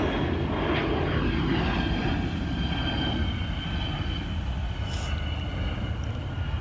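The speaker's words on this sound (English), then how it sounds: "stupid plane." A fixed-wing airplane passes overhead outdoors, its engine drone loud and steady as a low rumbling roar that slowly eases off over several seconds, with no talking over it.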